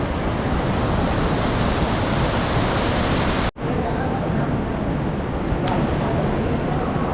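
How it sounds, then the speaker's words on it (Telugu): A large Himalayan river rushes at Yamunotri with a dense, continuous roar of flowing water, loud and close, briefly cutting out midway before resuming slightly softer. "చూడండి ఎంత పెద్ద వాటర్ ఫ్లో."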